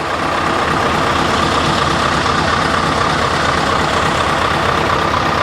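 A Scania lorry engine idles steadily on a farm, a loud, constant low rumble and drone with no breaks.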